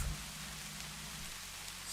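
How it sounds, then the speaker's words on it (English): Steady rain falls throughout, a broad soft hiss of drops on surfaces with a low rumble that eases after the first second, continuing at moderate level with no voices. "Sounds like the rain is starting to taper off"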